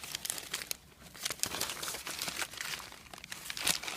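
Close, irregular crinkling and tearing of material being gathered and taped at the ends for a party platter, in busy bursts with no talking.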